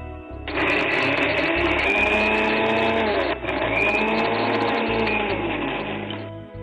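A mixer grinder runs continuously, grinding tomatoes with coriander and other ingredients into a batter for pumpkin adai. The motor whirs loud and steady for about six seconds, with a short dip midway, and no talking.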